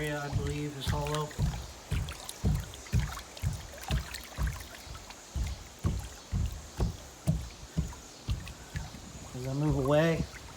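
Regular knocking taps on a hollow-sounding section of a swimming pool's shallow-end surface near the seat, about a dozen evenly spaced dull thuds, with brief talk at the start and end.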